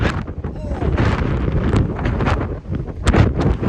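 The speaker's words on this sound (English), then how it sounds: "Really feel the wind here when you face into it." Strong wind buffets the microphone on an open ferry deck, a loud, gusty rumble that carries on throughout, with a person talking underneath it.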